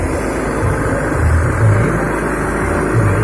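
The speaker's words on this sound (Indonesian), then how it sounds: "Dia pakai mesin diesel kan untuk produksi suaranya" A loud, steady diesel engine drone powering the sound system of a Singa Barong parade float in West Java, with a deep rumbling low end, holding constant throughout with slight surges, close by.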